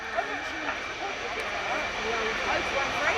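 A steady, continuous whine and roar of a pair of Turbomeca Marboré 2 turbojet engines on a historic French naval jet at an air day, fairly distant and even in level throughout.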